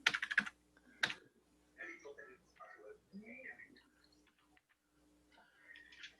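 Keys on a computer keyboard are typed in a short burst of sharp clicks near the start, followed by a lone click, then a person talks over quieter background.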